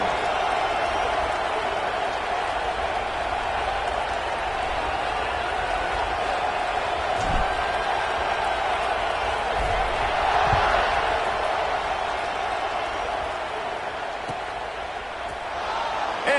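Football stadium crowd at a kickoff, a steady broad roar of cheering and applause that swells briefly midway, with a commentator talking over it.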